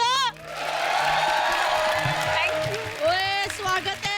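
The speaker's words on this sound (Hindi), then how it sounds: "आंटी तालियां बजा दो" Studio audience at The Kapil Sharma Show applauding and cheering as Deepika enters, sustained loud clapping with crowd whoops, overlaid by voices and music-like tones near the end.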